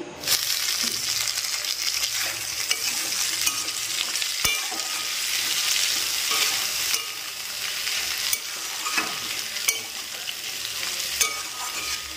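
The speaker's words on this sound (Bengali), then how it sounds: "এখন বসানো আছে আলু ভাজাটা" Potatoes fry in a pan with a constant close, loud sizzle, broken by scraping stirs and occasional sharp utensil knocks, with no voices.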